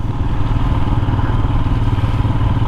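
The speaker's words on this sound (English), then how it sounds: "at that point the bike started spluttering" A Royal Enfield Himalayan motorcycle engine runs continuously close by, a dense, low, uneven rumble with no voices over it.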